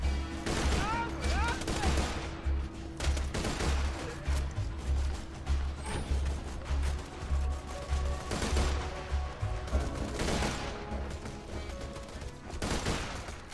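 Assault rifle gunfire in Borderlands 2, dense rapid bursts of shots cracking almost continuously with brief gaps, loud and close, mixed with other game impacts and a voice talking throughout.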